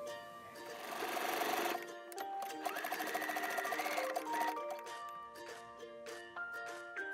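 Brother sewing machine zigzag stitching overlapped elastic ends for an elastic-waist skirt, a close, fast mechanical whirring run that pauses briefly, restarts, then slows into separate stitch clicks.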